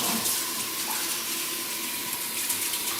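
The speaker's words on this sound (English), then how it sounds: "you just want to make sure you give it a good rinse" Tap water runs steadily over a brined raw turkey in a sink, a continuous close splashing rush with no break.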